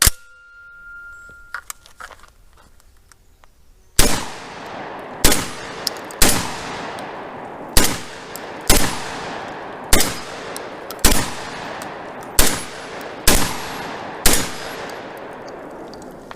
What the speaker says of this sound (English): I'm going to pop off the last 9 shots, rapid fire, just to make sure that it feeds through.